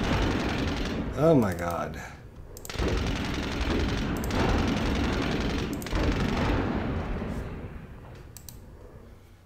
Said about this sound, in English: I guess we'll just keep shooting at them.